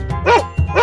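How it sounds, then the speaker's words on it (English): A dog barks twice in quick succession, short loud yaps close up and separated by a brief pause, with no talk over them. "dog,"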